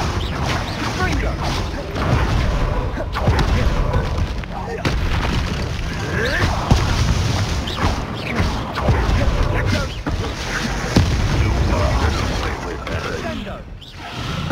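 Repeated explosive bursts from the Confringo fire spell in the Hogwarts Legacy video game, loud and dense, booming through constant combat noise with spoken voices shouting over them.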